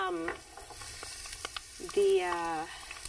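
Garlic sizzles and crackles in a hot pan, with a couple of brief voice sounds over the frying.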